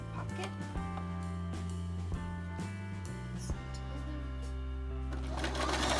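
A home sewing machine stitching a vintage dress being remade, its motor whirring in short rhythmic runs with brief stops between them, close and steady.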